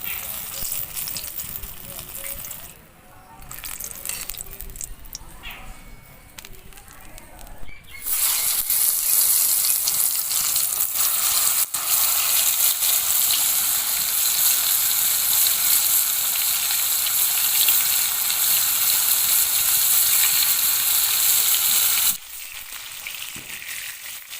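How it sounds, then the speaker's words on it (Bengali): Pointed gourd (potol) pieces rubbed with salt and turmeric frying in oil in a pan: quieter crackle at first, then a loud steady sizzle from about eight seconds that drops away near the end. "পটলগুলো সুন্দর করে ভেজে নেওয়া হয়ে গিয়েছে, এবার আমি তুলে নেব"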